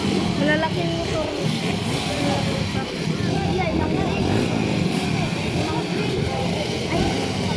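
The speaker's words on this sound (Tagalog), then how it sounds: "Malalaking motor." Big motocross motorcycles race at a championship in Roxas, Palawan, their engines droning and buzzing steadily at a distance while people talk nearby throughout.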